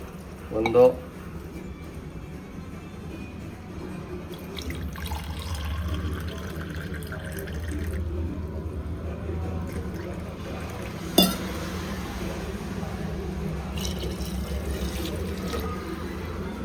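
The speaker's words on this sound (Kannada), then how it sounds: "ಬನ್ನಿ ಈಗ ಅಕ್ಕಿ ವಾಶ್ ಮಾಡ್ಕೊಂಬರೋಣ." Rice being washed in water for a chicken biryani, with steady low sloshing and pouring of water and a couple of sharp clinks of a vessel, continuous and close over roughly fifteen seconds.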